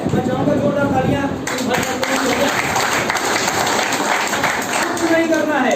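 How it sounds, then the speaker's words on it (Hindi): An audience at a business networking seminar claps in a loud, sustained round that runs steadily throughout, with a voice speaking over it. "मैं चाहूंगा जोरदार तालियां"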